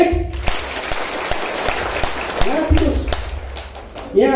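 An audience at a talk claps in a soft, scattered way, with irregular individual claps under someone speaking over them throughout.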